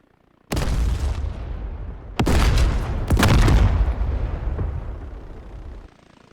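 Rocket impacts in the combat flight game DCS World, fired from an OH-58D Kiowa Warrior helicopter: several sudden loud booming explosions in succession, each with a rumbling decay, then fading out, no talk.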